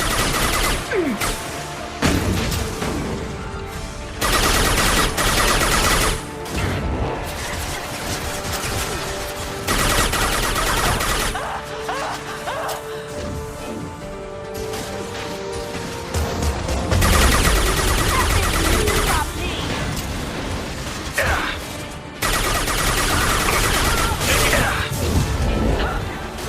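Mass Effect 2 combat with rapid, repeated gunfire bursts and crashing impacts, loud and sustained throughout, with brief pauses between volleys and occasional voices.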